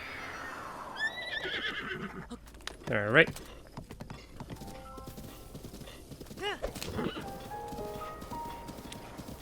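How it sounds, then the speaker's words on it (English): Horse in the Zelda: Breath of the Wild video game neighing and galloping with clip-clop hooves, a loud whinny in the middle, under occasional talk. "Go and call my horse, if he can."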